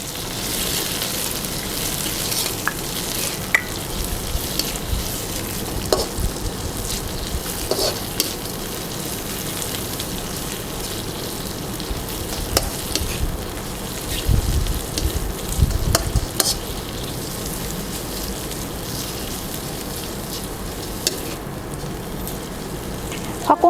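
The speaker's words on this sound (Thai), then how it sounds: "เราจะผัดกุ้งพอสุกนะคะ" Shrimp stir-frying in a pan for Thai glass noodle pad thai, a steady close sizzle with scraping stirs and occasional louder clatters of the utensil against the pan throughout.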